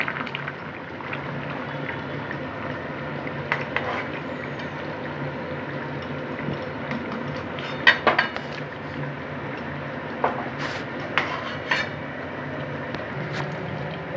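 A pot of Bengali hilsa fish curry with potato and brinjal is lifted off a stove: scattered metallic clinks and scrapes sound close over a low, steady kitchen hum, and nobody talks.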